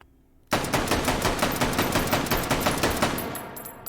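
Rapid, evenly spaced shots from a Model 81 carbine fitted with a muzzle brake in the VR shooter H3VR, loud and close, a dense string lasting several seconds.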